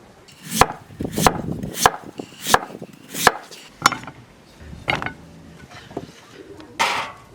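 Two large, freshly washed sweet potatoes chopped with a knife in a rural Shaanbei home kitchen: about ten crisp, close knocks of blade through flesh onto the board in a steady rhythm, with a short pause before the final cuts.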